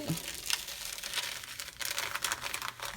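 A plastic backing sheet is peeled off a rhinestone and embroidery applique just pressed with a heat press at 350 degrees, a close, continuous crinkling rustle with small tearing bursts.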